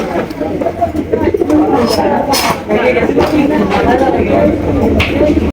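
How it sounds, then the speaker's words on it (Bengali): Budapest pigeons, including a chila-coloured pair, cooing in a continuous low burbling chorus close by, with a voice talking over them. "দেখতে পাচ্ছেন একটা হচ্ছে চিলা কবুতর"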